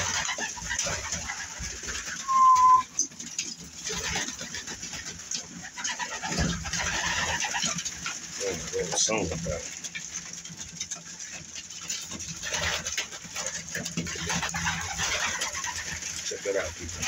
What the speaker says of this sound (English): Birds are awesome.